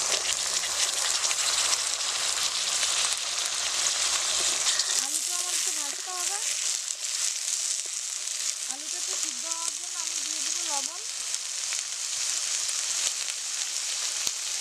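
Chopped potatoes frying in a pan: a steady, dense sizzle runs throughout, and a voice talks briefly over it in the middle.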